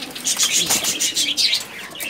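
A flock of high-flying pigeons in their loft coos and chirps continuously, fairly loud and close, with a brief flutter of wings among the overlapping calls.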